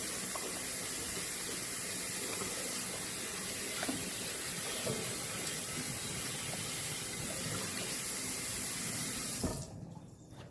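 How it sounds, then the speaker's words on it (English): Kitchen tap water runs in a steady, close hiss into a sink during handwashing, then cuts off abruptly near the end, leaving quiet. "So let's wash our hands."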